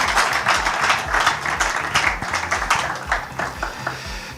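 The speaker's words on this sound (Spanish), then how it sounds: "Un aplauso, por favor." An audience at an interview event with an emeritus bishop claps steadily for several seconds, a dense even patter of many hands in a hall, moderately loud with no voices over it.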